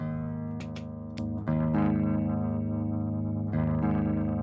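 Electric guitar played through a Poison Noises The Spill effects pedal, with sustained chords swirling with chorus-like modulation and distortion, a few plucked attacks and a strummed restart, loud and close with no talking.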